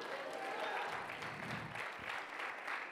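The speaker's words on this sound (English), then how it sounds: "Somebody clap your hands and shout hallelujah." A church congregation claps and applauds at faint level, with a soft, continuous patter of many hands and a distant murmur of voices.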